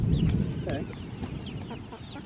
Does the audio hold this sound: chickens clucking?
yes